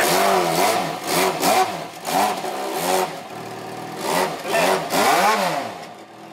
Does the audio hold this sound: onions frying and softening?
no